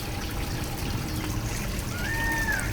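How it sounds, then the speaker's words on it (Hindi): A small cement fountain in a terrace garden trickles water in a constant gentle stream, close and steady, and a faint bird call rises near the end. "बिल्कुल एक छोटी सी मीठी सी आवाज़ मधुर सी आ रही है ना इस झरने के, फाउंटेन के।"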